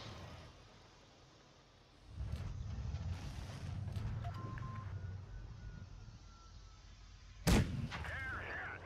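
A single loud tank cannon blast in World of Tanks, fired by a T54E2 or IS-3 platoon at a Chimera, rings out near the end over a steady engine rumble and faint battlefield noise.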